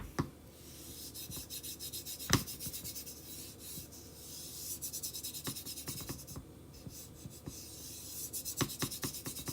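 A chalk transfer is rubbed down onto a sign for a "Life is Sweet" chalk kit: quiet, steady scratchy rubbing strokes up close, with a few sharp taps and scrapes mixed in, no talking.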